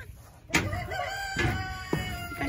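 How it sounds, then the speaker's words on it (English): A rooster crowing on a farm with Berkshire pigs nearby, one drawn-out crow followed by shorter calls and clucks, moderately near over faint background noise. "Watch out for the rooster there."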